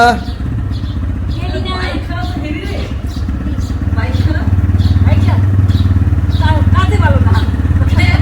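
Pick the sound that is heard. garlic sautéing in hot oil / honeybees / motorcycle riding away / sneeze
motorcycle riding away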